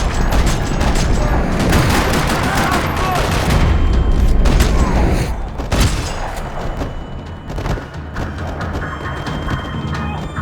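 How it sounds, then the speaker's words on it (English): Rapid bursts of gunfire and booming impacts rattle loudly and almost continuously in a parking lot in the video game Max Payne 3, with scattered shots and thuds as the barrage thins out. "Another parking lot rattling with gunfire."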